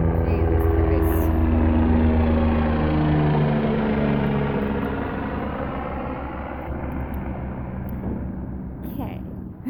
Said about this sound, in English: here we go again with the helicopter right above us